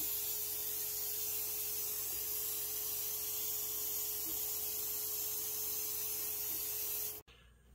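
An airbrush with a 0.35 tip sprays Cosmic Sparkle Red pearlescent paint, thinned with 4011 reducer, over gloss black on a Hot Wheels car. It makes a steady, close airy hiss with a faint hum beneath, then cuts off abruptly at the end.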